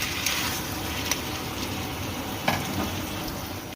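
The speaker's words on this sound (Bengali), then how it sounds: "সিদ্ধ করে রাখা মোচা দিয়ে তারপরে আবার মোচা দিয়ে বেশ কিছুক্ষণ কষিয়ে নেব" Boiled banana flower stir-fried in a pan, a dense continuous sizzle with a few brief scrapes of stirring, fairly loud and close throughout.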